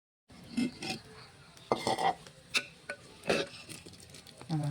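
A spoon checks cauliflower cooking in a pot for a cauliflower pulissery: quiet, scattered clinks, taps and scrapes of metal on the pot in short bursts, with soft bubbling between them.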